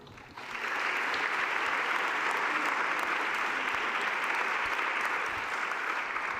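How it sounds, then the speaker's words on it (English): Steady applause from a conference audience at an awards presentation, a broad even roar of many clapping hands that swells in quickly and holds at a consistent level. "keep the applause going"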